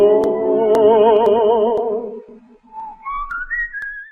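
Melodic whistling from a Pedro Infante song, a wavering, vibrato-laden phrase followed by a climbing run of notes, clear and prominent over light plucked accompaniment.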